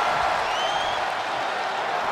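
A packed arena crowd in WWE 2K23 cheers and applauds in a steady, dense roar with a few whistles cutting through. It holds at a constant level the whole time.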